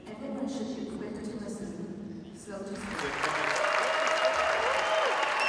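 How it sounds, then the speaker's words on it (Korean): A large audience bursts into applause and cheering as two elderly gentlemen enter. The clapping builds from a quieter murmur and turns into a dense, sustained ovation. "사람들의 환호를 받으며 등장한 두 노신사"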